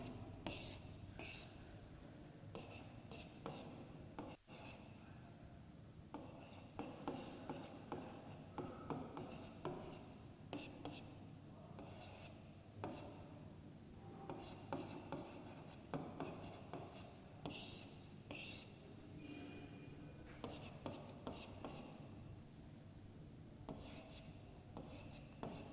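Chalk or marker writing on a board during a children's math lesson on money: faint, intermittent scratchy strokes in short bursts across a quiet room, with occasional soft speech.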